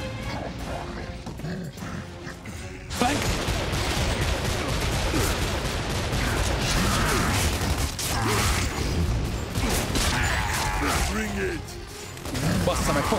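Rapid Hammerburst rifle gunfire in Gears of War 2 on Xbox Series X, dense bursts of shots with mechanical clatter and impacts filling most of the clip, loud and close, joined by game chatter.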